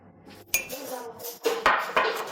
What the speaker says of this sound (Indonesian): Nih pemirsa, susunya cukup dengan 3 sendok saja.